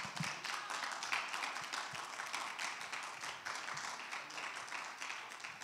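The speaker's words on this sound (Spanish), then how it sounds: "Un fuerte aplauso para el Señor." Faint, distant applause from a Spanish-speaking church congregation, a steady patter of many hands clapping together at low volume with no talk over it.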